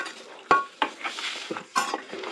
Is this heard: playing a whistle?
no